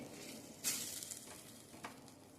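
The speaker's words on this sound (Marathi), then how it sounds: "हे आपण छान परतून घ्यायचे।" Spices sautéing in a pan for raw mango rasam, a faint, steady sizzle with a sharp crackling flare early on and a few soft stirring scrapes.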